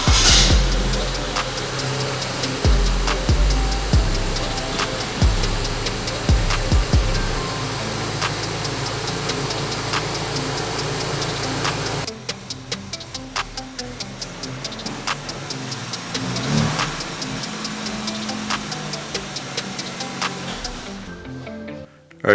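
A BMW car engine, recently swapped at home, restarts and settles into a steady idle with rapid ticking, tapping valvetrain clicks running evenly over a low hum, then quieting partway through.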